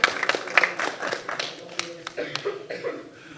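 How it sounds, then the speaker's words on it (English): An audience at a photography awards ceremony claps in scattered, uneven bursts that fade toward the end, with a voice speaking over the applause. "Round of applause, I reckon, from the audience."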